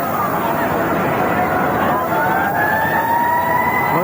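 A half-time siren wails with a slowly rising tone through the roar of the crowd at a 1989 rugby sevens final between Balmain and Easts, heard beneath a commentator's voice.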